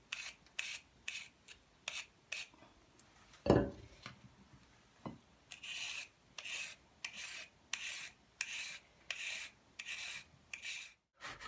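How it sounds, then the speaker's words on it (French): Carrots being grated by hand, a steady run of rasping strokes in rhythmic bursts, close and fairly quiet with a few clinks of utensils and a brief pause near the end. "Pour que ça soit meilleur et plus fin, je vous propose de les râper que de les couper en morceaux."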